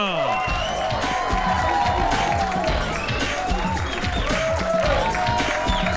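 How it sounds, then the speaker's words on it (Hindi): A crowd at a celebratory launch event claps and cheers in a busy, continuous wash of applause and shouting, with voices chattering through the noise. "तो लीजिए उनकी शान में हो जाए जोरदार तालियां"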